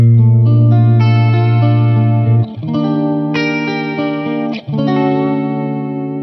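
An electric guitar runs through a DemonFx Mini Chorus pedal, sustained chords with a wavering, vibrato-like shimmer, ringing loud and clear across a few strums with no talk.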